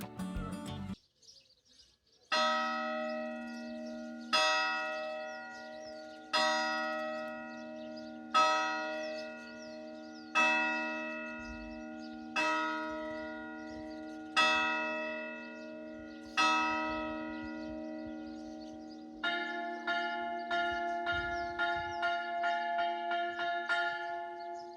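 Village church bells in the Azores ring out in slow, evenly spaced strikes, each tone sustaining and decaying, then a faster cluster of overlapping peals near the end, with faint birdsong between.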